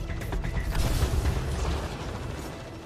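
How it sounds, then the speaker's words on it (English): Heavy combat noise from Mass Effect Andromeda as a flak cannon and trip mines go off against a Fiend, a dense loud mix of booms, mechanical clatter and bursts that stays steady, then thins slightly toward the end. "Let's finish it off with Flak Cannon and Trip Mines."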